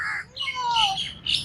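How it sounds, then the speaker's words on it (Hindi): A single crow gives a brief, nearby squawking caw with a falling tone, heard clearly against a quiet outdoor background. "ओ कौवा उड़ गया ये कौवा आ गया"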